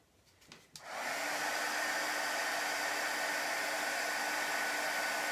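A hair dryer switches on after a couple of faint clicks and then blows with a loud, steady whooshing roar to dry chalk paste on a craft surface, running continuously with no talking.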